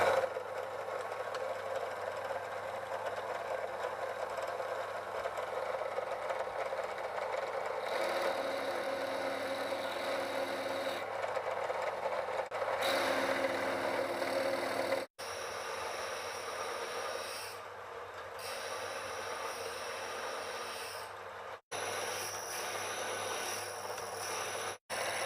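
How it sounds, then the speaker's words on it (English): A Dremel tool fitted with a cutting disc cuts through a round pin clamped in a vise, a steady high-pitched motor whine with grinding that shifts in tone as the disc bites, continuous and close with a few brief cutoffs. "for that I'm using a cutting disc from a Dremel tool"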